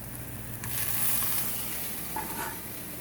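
Sausage and onions sizzle in a pan for a keto breakfast bowl, a close, steady frying hiss that swells after a short pause and holds for a few seconds with no talking.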